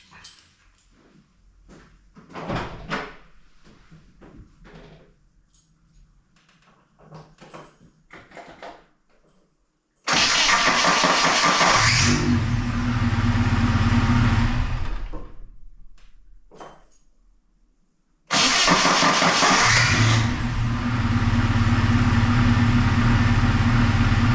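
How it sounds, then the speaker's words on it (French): A 1990 Alfa Romeo Spider engine with a newly replaced starter cranks and catches, roaring to life loudly, runs for a few seconds, dies down, then starts again and keeps running. "On va voir si ça démarre. Allez, premier démarrage."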